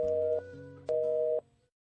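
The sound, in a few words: telephone busy signal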